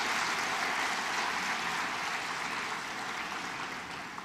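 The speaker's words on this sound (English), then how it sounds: "let us give a big round of applause to Professor Manusandhanam." Applause at a department degree distribution programme, a dense, even wash of clapping from a large audience that fades slightly toward the end.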